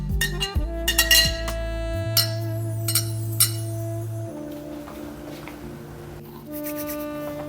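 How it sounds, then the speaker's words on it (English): Metal spoon clinking against the inside of a glass while stirring coffee, in a quick run of bright taps and rings that thin out into scattered chimes. "Let's give it a quick stir"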